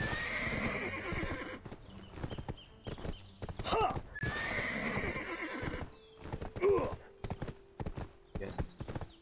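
A horse in the Black Desert Online video game neighs loudly twice and its hooves clip-clop in a steady rhythm, close and clear, with short stretches of talk around them.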